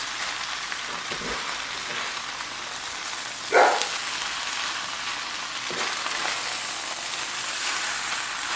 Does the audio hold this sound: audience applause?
no